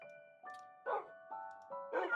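Dogs from the Minecraft RAD2 mod pack bark in a string of short, tonal barks that repeat every half second or so, close and fairly clear, with no voices over them.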